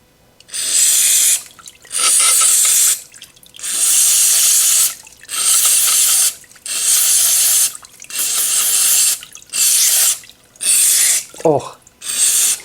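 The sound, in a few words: spraying cleaner inside a small engine carburetor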